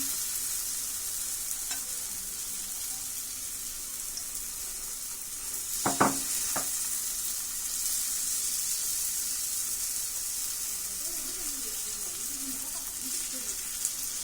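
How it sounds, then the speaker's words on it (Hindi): Batter poured into hot oil in a pan and spread into a roti shape, sizzling steadily throughout with a couple of brief scraping knocks midway and a faint voice late on. "बैटर डाल देंगे। बैटर को फैला लेंगे रोटी की शेप में।"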